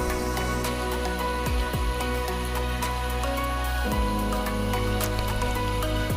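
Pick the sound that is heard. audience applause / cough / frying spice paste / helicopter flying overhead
frying spice paste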